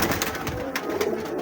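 Big breeder pigeons coo in a loft with soft repeated low calls over a busy background murmur.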